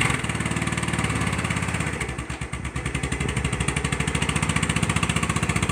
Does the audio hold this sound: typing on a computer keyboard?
no